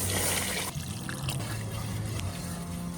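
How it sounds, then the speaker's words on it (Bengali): Water pours into a pan of lightly fried shrimp cooked down with ground coconut paste for a curry, a continuous splashing trickle heard close up without any voices. "এখন দিয়ে দিব পানি"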